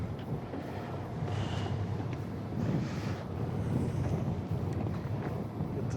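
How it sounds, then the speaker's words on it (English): Steady wind buffeting and low rumbling swell aboard a fishing boat at sea off Northern California, a continuous dense roar close to the microphone with no talking. "It's really not that rough, but just the swell and the wind."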